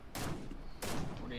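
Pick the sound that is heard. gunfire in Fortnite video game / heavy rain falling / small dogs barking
gunfire in Fortnite video game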